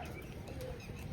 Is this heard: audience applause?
no